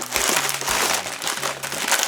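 Steady crinkling and crackling of a candy-style twist wrapping on a package of hair products being pulled open up close, continuous rustle with no talking.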